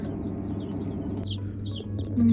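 Chickens and chicks in a village coop, with soft, repeated clucks and high peeps over a steady low hum, close by.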